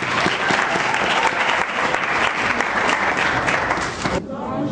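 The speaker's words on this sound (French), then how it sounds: "Applaudissez." Crowd at a school awards evening breaks into loud, dense applause that continues steadily, then cuts off abruptly near the end.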